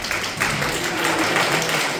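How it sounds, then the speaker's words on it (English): An audience at a stand-up comedy show applauds Air Force members, a steady wash of clapping from many hands that stays even and fairly loud for the whole moment. "We'll give these people a round of applause."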